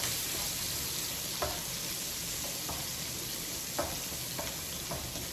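Red and yellow bell peppers sautéing in a pan for paella valenciana, a steady soft sizzle broken by a few clinks and scrapes of stirring.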